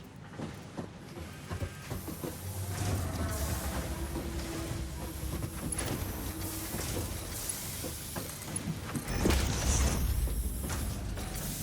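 Factory machinery in a screw-manufacturing video game turns out loads of screws, a steady clanking, creaking mechanical din with ratchet-like ticks and low rumbling throughout, louder near the end.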